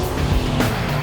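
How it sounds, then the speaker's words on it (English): A Mercedes-AMG performance car's rear-drive engine roars loud and steady, a dense continuous rumble with a slight swell midway through the short burst. "just listen to the sound of the engine"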